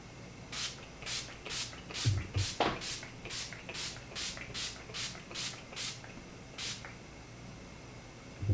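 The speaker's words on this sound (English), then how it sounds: "I'm going to use the Urban Decay All Nighter Makeup Setting Spray." Repeated short hissing sprays from an Urban Decay All Nighter makeup setting spray pump bottle, about a dozen quick bursts in a steady rhythm, close up with faint rustling in between.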